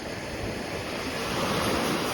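Black Sea waves wash onto the shore in a continuous broad roar, rising slightly toward the end, with wind buffeting the microphone and no voices.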